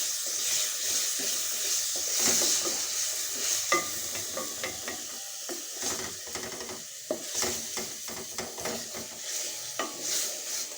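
Crushed frozen tomatoes stirred into onion masala in a pan for chicken capsicum curry: a steady wet sizzle with repeated spoon scrapes and knocks against the pot, irregular and close, with no one talking.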